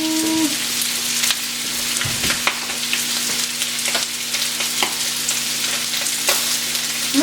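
Pork chops pulled from the oven, sizzling with a steady loud crackle and a hum, broken by a few clanks and knocks of the pan, with no talking.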